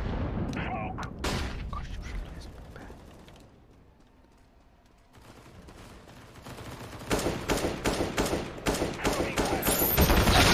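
Rapid M4A1 rifle bursts in Counter-Strike: Global Offensive, a fast sequence of close, loud cracks swelling into dense repeated fire near the end, with a quieter lull in the middle and a commentator talking over it.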